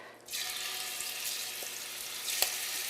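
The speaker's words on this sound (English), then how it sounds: "I'm sure our oil is hot, so we are going to go ahead and add our shrimp" Shrimp hit hot olive oil in a pan and start a steady, bright sizzle that holds evenly throughout, with one small pop near the end and no voices.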